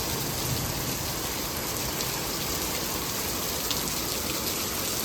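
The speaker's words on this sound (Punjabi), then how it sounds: "ਇੱਧਰ ਬੱਦਲ ਹੋਇਆ ਪੂਰੇ ਜ਼ੋਰ ਤੇ ਪੈ ਰਿਹਾ ਮੀਂਹ" Heavy rain pours down steadily, making a dense, even, close hiss of countless drops striking surfaces, unbroken for the whole stretch and with no voices.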